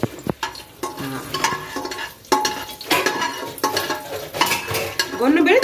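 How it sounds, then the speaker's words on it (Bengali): Whole garam masala of cardamom pods, a piece of cinnamon and cloves sizzles in hot oil, a close, steady crackle with stirring and the clink of a utensil against the pan. "এবারে এই যে এই আস্ত গরম মশলাটা আমরা দেব।"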